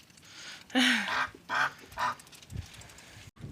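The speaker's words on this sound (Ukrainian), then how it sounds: "Гусочки їдять, качки десь вже поперли." Several domestic geese honk in short bursts outdoors on a muddy farmyard, a few calls spaced apart at moderate distance over faint background noise.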